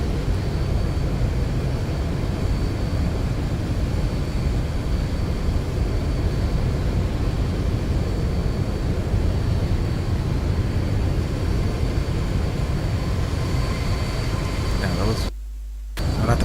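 An airliner lands itself in the X-Plane 11 flight simulator on an instrument flight from Dublin to Gatwick, producing a loud, steady roar of engine and wind noise throughout that cuts out for a moment near the end.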